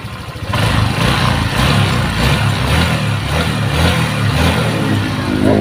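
Honda Vario 125 scooter, a 2017 model, engine running smoothly after a piston and ring replacement, a steady close idle hum that starts after a brief quiet moment and holds even.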